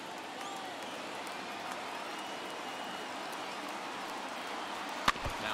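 Crowd of over 39,000 at a Major League Baseball postseason Wild Card game between the Brewers and Mets, cheering as a steady, dense roar with a sharp clap or knock near the end.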